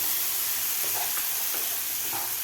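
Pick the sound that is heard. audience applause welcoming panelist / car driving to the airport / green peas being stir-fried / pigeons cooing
green peas being stir-fried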